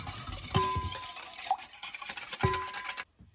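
Melted butter being stirred into an oat mixture in a bowl with a utensil, a few clinks and scrapes against the bowl, close and moderately loud, ending abruptly.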